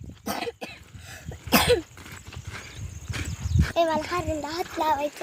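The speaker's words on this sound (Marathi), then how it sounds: "एवढा खोकला लागला" A child with a sore, tonsillitis-like throat coughs a few times in short harsh bursts, mixed with nearby talking and background household noise.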